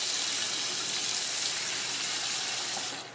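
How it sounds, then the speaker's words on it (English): Hot water pours steadily into a bowl of instant ramen noodles, a close, continuous hissing stream that tapers off at the end. "Fill the bowl with water"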